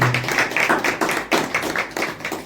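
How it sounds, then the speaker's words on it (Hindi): An audience at a Hindi church sermon claps in uneven, rhythmic bursts, the individual hand slaps distinct and close, pulsing for a couple of seconds with no speech over it. "जीवन भैया के लिए ताली बज जाइए भाई"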